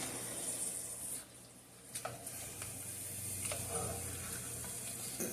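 Large-onion paste is stirred into a pan for a dhaba-style chicken karahi, giving a soft low sizzle with a few scraping stirs and light clinks, fairly quiet and close with no talk over it.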